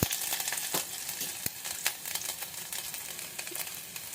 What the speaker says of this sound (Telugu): నెయ్యి వేసుకున్న తర్వాత ఈ గార్లిక్ అల్లము వేసి మంచిగా ఇలాగా రోస్ట్ అయ్యే వరకు కలిపెట్టుకుంటూ ఉందాము